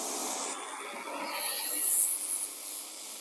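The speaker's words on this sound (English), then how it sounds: "Now let's test the turbo nozzle." Pressure washer with a turbo nozzle spraying old dry primer off a wooden shed, giving a steady hissing rush of water that swells briefly louder midway, heard up close.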